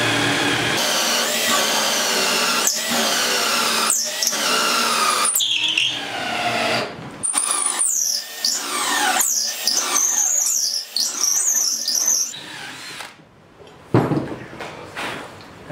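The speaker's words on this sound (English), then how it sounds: "drilling a half inch hole" A power drill whines and bores a half-inch hole into mahogany, its motor rising and falling in pitch with brief pauses and rattles.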